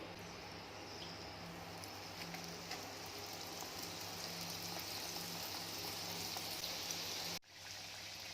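Donuts of eggless whole wheat dough fry in hot oil, giving a steady, faint, rain-like sizzle and bubbling that holds throughout, with a low hum beneath and a brief drop near the end.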